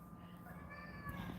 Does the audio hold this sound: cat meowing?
yes